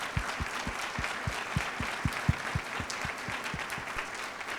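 An audience at a State of the Region 2023 gathering applauds as a speaker is welcomed, a soft, distant wash of clapping that runs throughout. Low, regular thumps beat beneath it at an even pace.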